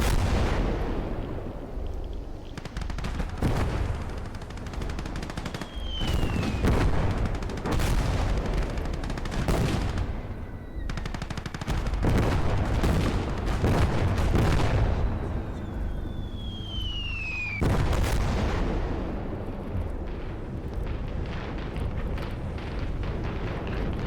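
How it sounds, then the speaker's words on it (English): In the Call to Arms Gates of Hell war game, a field gun fires repeatedly amid heavy battle, loud booming blasts with long rumbling tails recurring every few seconds, along with whistling shells and distant explosions, and no talking. "Oh no, this is not artillery, this is just a field gun."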